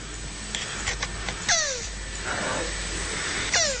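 A tortoise mating with a shoe gives short, squeaky descending cries, two sharp ones standing out, over a steady noisy background.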